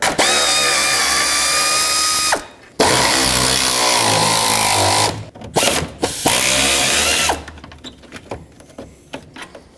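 A power tool removes the radiator fan bolts on a 2009-2013 Honda Fit, giving loud, sustained whirring runs separated by short pauses, then scattered clicks and knocks.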